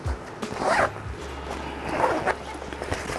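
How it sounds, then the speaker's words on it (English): A zipper opens along the top of a camping pad's bag in quick, close rasping pulls, with brief dog whimpers in the background. "All right, zips open on the top."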